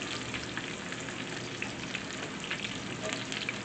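Sausage fries steadily in a pan with an even, crackling sizzle and a faint patter, like light rain, continuing throughout with no voices.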